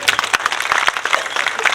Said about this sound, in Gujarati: સૌ તાળીઓથી વધાવશું.